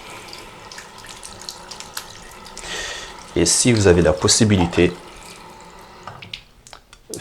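Tap water runs steadily during handwashing, a soft continuous rush under a French-speaking voice that rises briefly in the middle.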